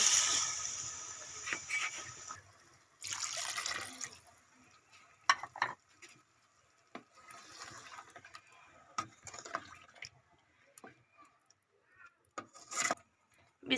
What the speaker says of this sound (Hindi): तो अब पानी शामिल करेंगे।